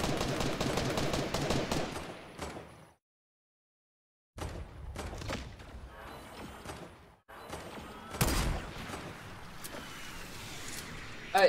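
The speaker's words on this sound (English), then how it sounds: "I'm at the barn shooting at them." Video game gunfire from Fortnite crackles in loud rapid bursts near a barn, broken by a sudden silent gap, then more shots and impacts continue.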